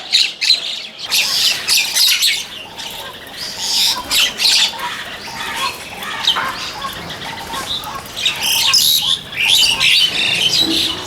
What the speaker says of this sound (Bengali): অনেক পাখি আছে